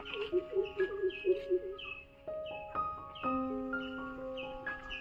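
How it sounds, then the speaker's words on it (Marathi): Several different birds sing in open fields near mango trees, with clear tonal whistles and repeated chirping phrases coming from close by in a quiet setting. "रानात बघा पक्ष्यांचे मंजूळ"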